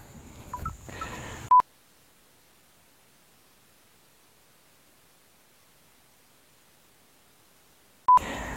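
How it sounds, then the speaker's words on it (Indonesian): A phone alarm gives two short, loud, pure electronic beeps about six seconds apart, with near silence between them and brief rustling at the start and end. "sorry ada panggilan dari alarm ya"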